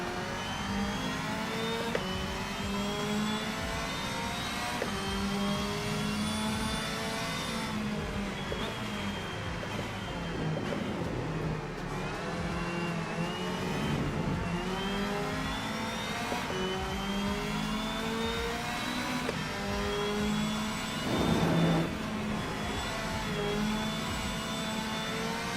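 Race car engine in the Rennsport racing game revving hard and continuously, with tyres spinning and scrabbling under throttle, loud and steady throughout with rising and falling pitch.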